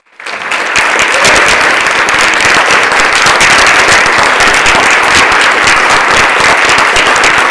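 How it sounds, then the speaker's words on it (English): A state assembly chamber breaks into loud, dense applause for the chief clerk's birthday during a floor session, the clapping swelling quickly and holding at full strength to the end. "if we could give her a big round of applause"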